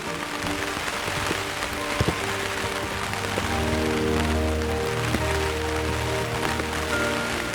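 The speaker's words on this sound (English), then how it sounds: "it's still raining" Rain falls steadily during a wet hike through the Scandinavian wilderness, a continuous dense patter with a few sharper drops standing out.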